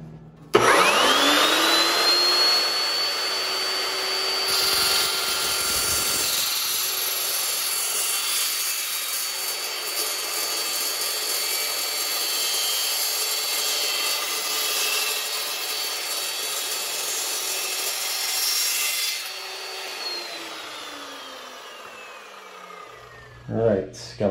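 A power saw spins up and then cuts steadily through a metal bathtub sliding-door track for about twenty seconds, a loud sustained whine that winds down at the end, followed by a couple of brief handling knocks.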